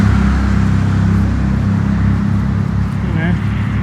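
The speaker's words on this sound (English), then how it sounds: "The traffic go fast." Road traffic rushes past a roadside in the Australian goldfields, a steady loud low rumble of fast-moving cars with a faint higher whine near the end.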